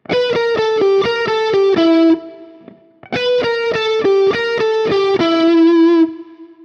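A heavily distorted electric guitar plays a fast repeating phrase of picked 16th-note triplets, twice, each run stepping down in pitch before ringing out briefly.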